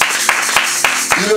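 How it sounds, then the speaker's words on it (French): A church congregation claps in a steady rhythm, with four or five sharp, evenly spaced claps standing out under an ongoing wash of sound. "Acclamons un peu pour notre Dieu parce qu'il est puissant."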